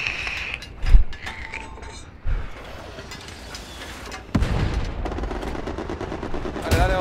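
Gunfire in the Hell Let Loose video game: sharp, loud shots and mechanical clatter, a sudden burst near the start and a heavier barrage later, over a busy battlefield background with no talking.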